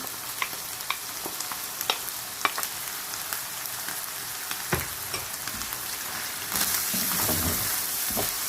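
Ground tomato frying with qeema in a pan for smoky qeema methi: close crackling sizzle with scattered sharp pops and spatula taps, swelling into a louder, denser hiss as it goes on.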